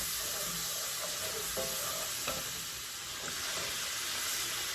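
Garlic sizzles steadily in a hot pan while being stirred, a constant loud frying hiss with faint scrapes and clinks of the spoon throughout.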